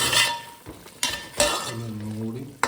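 Food fries in a pan while being stirred, a constant sizzle broken by several sharp scrapes and clinks of the utensil against the pan.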